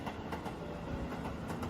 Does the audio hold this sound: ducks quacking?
no